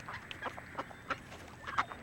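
Mallard ducks give a few scattered, soft quacks and short calls close by, irregular and brief over quiet background noise.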